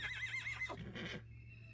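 A black horse neighs in a single long, high, wavering whinny that drops into a lower rumbling snort, loud and close, over a steady low hum with no speech.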